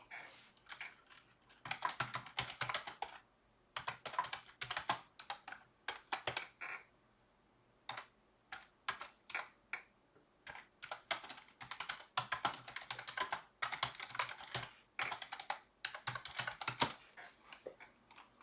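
Typing on a computer keyboard in bursts of rapid close key clicks, broken by short pauses, continuing for many seconds with no talking.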